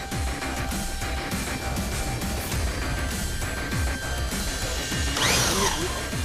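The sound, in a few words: drill boring into a steel safe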